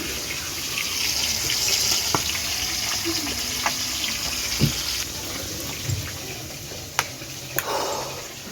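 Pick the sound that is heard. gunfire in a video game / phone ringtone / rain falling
rain falling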